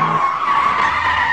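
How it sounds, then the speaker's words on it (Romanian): A car's brakes squeal loudly and continuously as the vehicle comes to a stop, a sustained high-pitched screech with no pause, alone without talk. "De-abia o ating și mașina se oprește scârțind!"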